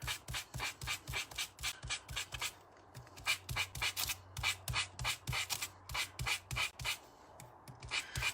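Rapid, rhythmic scratchy rasping of sanding paper flower petals in repeated short strokes, close and steady, with brief pauses between bursts.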